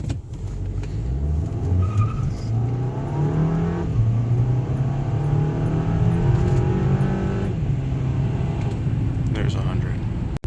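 A VW Eos with a six-speed dual-clutch transmission, its engine revving up and holding near 4,000 rpm inside the cabin, a droning tone that climbs and falls and then steadies, with talk over it.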